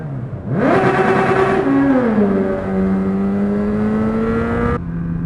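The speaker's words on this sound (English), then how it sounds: "For others, they like a rev bomb." A motorcycle rev bomb echoes inside a tunnel: the engine snaps up to a loud, high howl, holds the revs steadily for a few seconds, then cuts off sharply.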